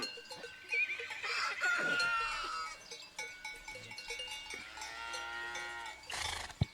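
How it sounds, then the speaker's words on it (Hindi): Buffaloes on a village farm in the morning, with low animal calls amid ambient birdsong and scattered rural sounds at moderate distance. "ये देखें भैंसें"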